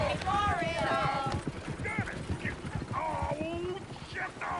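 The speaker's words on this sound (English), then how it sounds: "Oh, shit, the horses!" Horses' hooves clip-clop rapidly in the Red Dead Redemption 2 video game, a busy rhythmic patter of several animals beneath overlapping voices talking.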